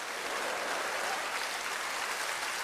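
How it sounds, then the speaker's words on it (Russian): Studio audience applause at a television health show's 100th-episode celebration, a dense, even wash of clapping held steady throughout, fairly distant and with no voices over it. "Аплодисменты!"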